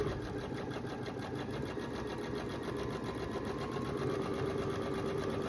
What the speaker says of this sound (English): I love the sound of a sewing machine